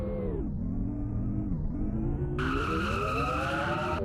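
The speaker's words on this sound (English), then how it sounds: "If you want to do the burnout, you can do the burnout" Race car engine in a sim racing game at New Hampshire, a loud revving tone with sliding pitch swings, joined partway by a harsh high tire squeal from a burnout, continuous and close.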